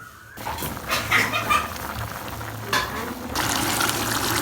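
Meat curry sautéing in a pan for a Jaffna-style dish, a steady close sizzle and crackle with soft stirring scrapes, rising to a denser fry toward the end.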